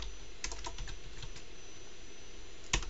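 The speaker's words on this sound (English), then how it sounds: "we're going to type expenses" Quiet keystrokes on a computer keyboard while entering data into an Excel spreadsheet, a few scattered taps followed by a sharper click near the end, with no talking.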